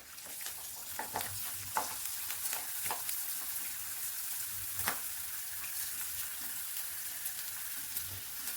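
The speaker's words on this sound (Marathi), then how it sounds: "आता आपण याला तळून घेऊ" Sabudana chakli deep-frying in hot oil: a steady bright sizzle with crackling pops and occasional louder spatters throughout, close and alone with no talk.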